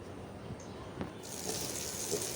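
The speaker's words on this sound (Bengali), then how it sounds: "পেঁয়াজ রসুনগুলো তেলের মধ্যে দিয়ে কিছুটা সময় ভেজে নেব, একটু লাল লাল করে ভেজে নেব।" Chopped onion and garlic land in hot oil for a meat dish, and a broad, bright sizzling hiss suddenly rises after a quieter start and carries on steadily up close.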